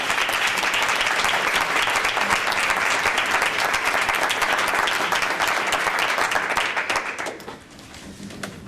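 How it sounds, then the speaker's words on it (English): Sustained applause from an audience at a board meeting fills the room, dense and loud for several seconds before tapering off near the end. "they are very much deserving of a round of applause"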